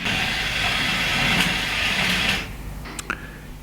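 An old LEGO 4.5 volt train engine, the blue-era kind, runs along its track with a steady, fairly close mechanical whir and hiss that stops abruptly partway through, followed by a few light clicks.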